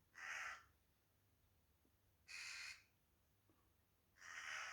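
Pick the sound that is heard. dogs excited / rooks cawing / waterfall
rooks cawing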